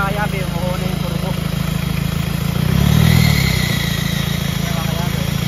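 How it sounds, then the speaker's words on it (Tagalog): A freshly overhauled Hyundai D4BH turbo diesel engine idles with a steady clattering drone, swelling briefly near the middle as the turbo spools up, close by, with someone talking over it. "Umuho na yung turbo."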